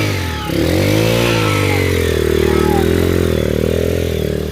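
A Honda XR enduro motorcycle revs hard on a slippery trail section, its engine loud and close, rising and holding in a steady throttled roar with no talking.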